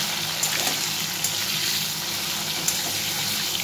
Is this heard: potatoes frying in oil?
yes